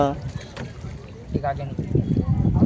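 Motor boat moving on the river at Prayagraj, with a low churning water and engine rumble under people talking close by.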